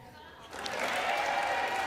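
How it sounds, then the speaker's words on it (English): Applause for Nancy Pelosi during a House Speaker vote rises from quiet and swells into a steady wash of clapping, with talk mixed in underneath. "And of course, applause for Nancy Pelosi"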